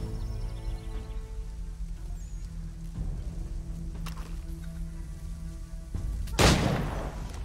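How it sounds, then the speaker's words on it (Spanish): A musket volley fires in the Assassin's Creed III video game, a loud burst of gunfire near the end after quieter ambient game sound with steady background tones. "Cuando yo abra fuego, vosotros cargáis."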